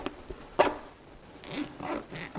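Zipper pull being slid onto the zipper of a VermiBag worm composting bag, several short scratchy zips and clicks, close and quiet, with a longer rasping pull near the end.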